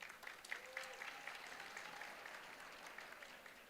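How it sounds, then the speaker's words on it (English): Steady audience applause at a university graduation ceremony (Walter Sisulu University, Mthatha), a soft, distant patter of many hands clapping throughout with no talk over it. "go ahead, you can clap"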